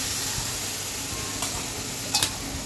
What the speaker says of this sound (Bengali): মশলাটাকে একটু জল দিয়ে কষাবো আমি